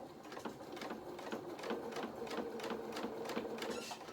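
A sewing machine stitching cat-doll clothes runs in a quick, even rhythm of needle strokes, a close, moderately quiet mechanical chatter.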